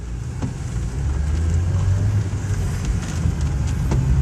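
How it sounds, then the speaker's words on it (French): Strong wind gusts in a thunderstorm under an orange storm alert, a loud, constant rumble of buffeting wind that builds slightly over a few seconds, with occasional faint knocks and no voices. "Regardez les rafales devant."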